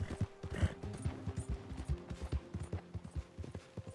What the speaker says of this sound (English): You are a good horse.